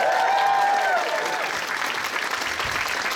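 Convention masquerade audience applauds for a Mr. Bison cosplayer, a dense steady wash of clapping throughout, with a brief voice over the start.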